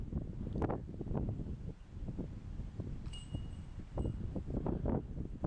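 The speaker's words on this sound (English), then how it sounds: "that's how windy it is" Gusty wind on a disc golf course buffets the microphone with low rumbling bursts that rise and fall throughout, and no voices are heard.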